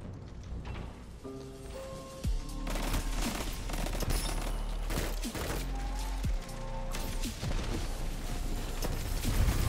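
Hand cannon shots in a first-person shooter video game, the Eriana's Vow sniper hand cannon, firing repeatedly in loud sharp bursts amid busy game effects and continuous background action.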